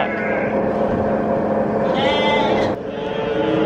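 Sheep bleating close by, a loud sustained animal call filling the whole stretch with no voices over it.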